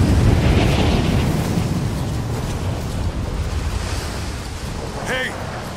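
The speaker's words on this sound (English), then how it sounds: "This wind is crazy." Strong mountain wind roars at a snowy summit in Rise of the Tomb Raider, a steady, loud, broadband rush that barely eases, with a brief faint voice near the end.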